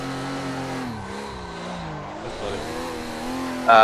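A Toyota JZX100 drifts on the Project Touge track in a video game, its engine note droning steadily and dipping and rising with throttle, ending in a sudden louder burst.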